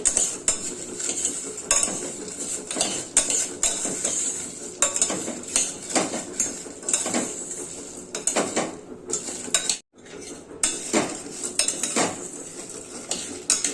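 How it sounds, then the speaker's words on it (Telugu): A large onion with fenugreek seeds, toor dal, ghee and green chilli frying in a pan, with a steady hiss of sizzling under repeated close scraping and clinking of a spoon stirring against the metal, continuing with only a brief pause. "కొంచెం పెద్దది ఉల్లిగడ్డ, అన్నీ వేయించుకోవాలి. వచ్చే వరకు వేయించుకోవాలి."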